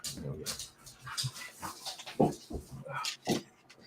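A husky whimpers and whines in short, uneven bursts, fairly quiet and close, with soft yips and snuffling in between.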